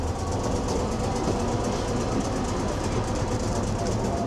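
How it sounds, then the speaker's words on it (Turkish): A tram in Japan rolls steadily along its rails with a constant rumble and faint rattling, heard from inside. "Arkadaşlar şimdi tramvaya biniyorum"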